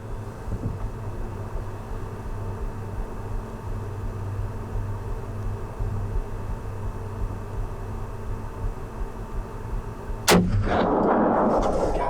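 A single gunshot from a deer rifle rings out during a whitetail hunt after a long stretch of quiet outdoor ambience, loud and sharp near the end with a brief rumbling tail.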